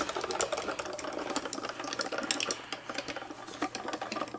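A hand-cranked die-cutting and embossing machine is turned steadily with foam and card inside, producing a close, continuous mechanical clatter and grinding rumble with small clicks, and no voices.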